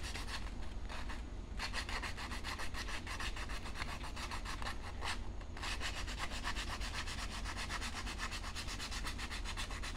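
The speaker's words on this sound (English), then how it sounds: "So it's gonna get it a little smoother and just sand a bit of it away." A homemade swimbait is hand sanded smooth with steady back-and-forth rasping strokes, a continuous close scratchy rubbing broken by two brief pauses.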